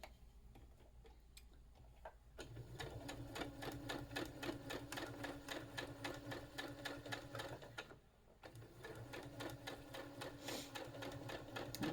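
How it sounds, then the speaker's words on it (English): A sewing machine stitches a quarter-inch quilt seam, running in a fast, steady mechanical rattle close by, with a brief pause partway through before it resumes, with no speech. "So then I go ahead and I do a 1/4 inch seam."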